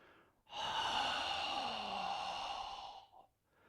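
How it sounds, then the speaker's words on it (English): A forceful, sustained breathy exhalation from the "taking the garbage out" breathing technique, close and fairly loud, lasting about two and a half seconds with a short breath tailing off at the end, and no speech. "there's a technique called taking the garbage out, where you emphasize the exhalation, and oftentimes there is a significant amount of muscular effort"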